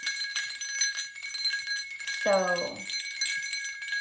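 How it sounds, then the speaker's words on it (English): Witch bells rung for an energy-clearing ritual give one bright metallic jingle with shimmering overtones partway through, set under a constant high ringing tone and soft spoken voice. "These bells in general, they cast away evil spirits,"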